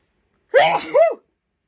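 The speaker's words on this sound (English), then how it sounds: "I can feel a sneeze coming." A single close, loud sneeze, a quick inhaled buildup followed by a sharp explosive burst, then silence.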